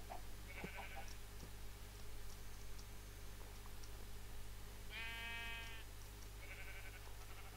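Sheep in the Minecraft video game bleat faintly three times, a short bleat early and two longer ones near the end, over a low steady hum with light ticking.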